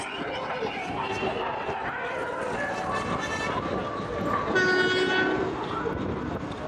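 A Trichy–Erode passenger train with ICF coaches rolls into a station with a rumbling run and a sounding horn that holds steady tones near the end, while a voice speaks over the arrival.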